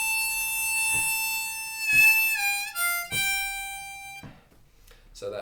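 Harmonica playing the opening lick of a slow blues, sustained reedy draw and blow notes with bends, each tone held and then shifting, ending in silence and a faint breath.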